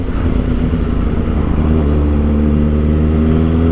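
Kawasaki Ninja ZX4-RR motorcycle engine pulling in a low gear on a commute, a steady loud near drone with rising harmonic pitch as it accelerates, continuous with no talk.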